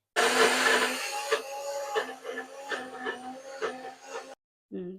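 A mixer grinder coarsely crushing garlic and green chillies for cucumber chutney, a loud steady whir that pulses in short bursts before stopping, with a brief voice just after.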